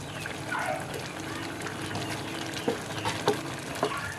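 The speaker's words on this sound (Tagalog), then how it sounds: "Unti-unti kong haluin, bahagya, ganyan." Thickening tumbong bopis sizzles over high heat while it is stirred slowly, soft bubbling and scraping with a few sharper clinks of the utensil, at moderate volume.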